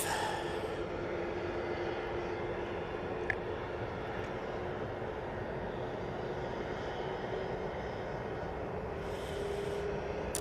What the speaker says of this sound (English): Next arrival, about to touch down. It's the Eurowings from Dusseldorf.